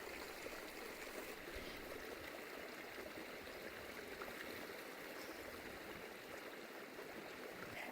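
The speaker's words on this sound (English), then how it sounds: "So you can see the hot water coming from the spring down there." Water from a hot spring at an abandoned resort in Warm Springs, Nevada flows through a dug trench into a pool, a faint, steady, even rushing stream with no voices.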